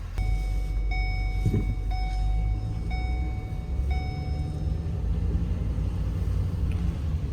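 A hammered Ford 6.7 Powerstroke diesel truck engine idling on a cold day after being jump-started, with a steady low rumble and a repeating electronic chime beeping over it.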